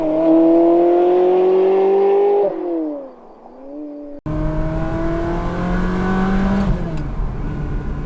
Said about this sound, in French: Mais alors, le son du V8, il est exceptionnel.